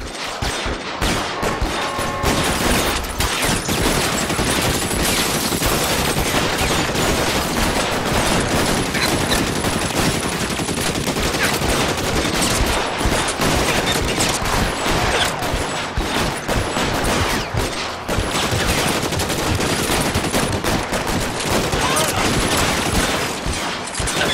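Gunfire in L.A. Noire, a dense nonstop barrage of shots and rapid bursts across the whole stretch, loud and close, with voices talking over it.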